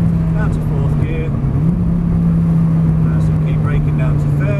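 Lamborghini on a driving-experience circuit holding a steady, loud engine drone as it brakes and drops to fourth, with a slight pitch shift midway and someone talking over it.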